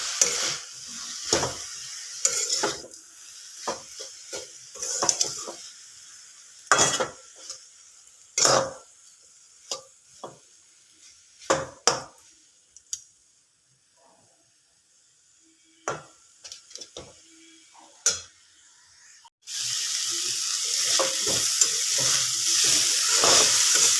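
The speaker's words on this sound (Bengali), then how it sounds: "আবার একটু নেড়ে দিচ্ছি।" Drumstick flowers fry in a pan and get stirred now and then, with scattered sharp scrapes and taps over a soft sizzle that swells into a loud, steady hiss for the last few seconds.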